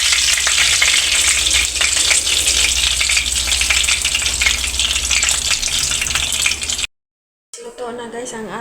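Fish frying in a pan of hot oil, a loud steady crackling sizzle that runs for about seven seconds, cuts out briefly, then returns with a voice talking over it.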